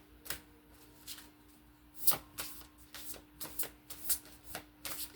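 Tarot cards being shuffled and pulled, producing a series of soft, crisp riffles and flicks at close range, quiet and without speech.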